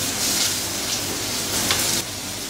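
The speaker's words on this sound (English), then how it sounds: "Going to start to colour those onions off, get some caramelisation going on there" Onions, garlic and lamb bones fry in a hot pan, a steady bright sizzle with a few faint stirring shuffles, close and loud, with no speech.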